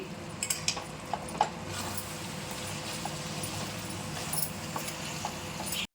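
Spices stirred into a tomato fry in a pan, giving repeated close metallic scrapes and taps of a spoon against the pan over a low continuous sizzle.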